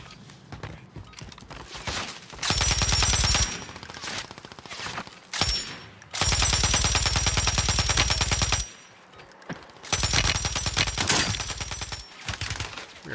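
Rapid automatic gunfire in a video game, coming as loud sustained bursts of a few seconds each, separated by short quieter gaps with scattered single shots and no talking.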